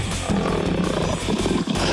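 A cartoon tiger roar sound effect, loud and sustained, rumbling steadily for about two seconds with no voices over it.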